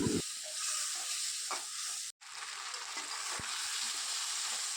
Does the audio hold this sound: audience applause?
no